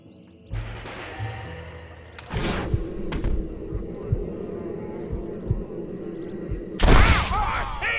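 Gunfire in a Red Dead Redemption shootout: a few sharp, loud bursts ring out, the heaviest near the end, over a steady low rumble of background sound, with no clear talk.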